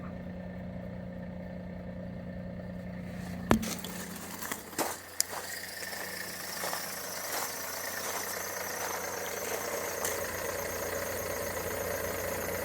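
A car idles with a steady low hum while its manual gearbox gives a faint chatter, with clutch clicks and pedal knocks a few seconds in as the clutch goes in and out, heard alone.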